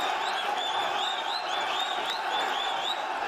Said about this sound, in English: the crowd are getting right into this at Perth Metro City